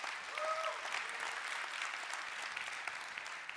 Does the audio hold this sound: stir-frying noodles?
no